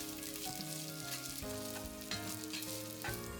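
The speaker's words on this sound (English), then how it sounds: "And then I add the onion to the pan. And I stir fry it." Onion stir-fries with garlic in a pan over medium-low heat, a gentle continuous sizzle with faint scraping from stirring, close and quiet.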